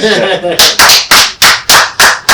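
Rhythmic group clapping at a Rwandan presidential election and inauguration event, loud and close, with about eight sharp, evenly spaced claps following a brief spoken call.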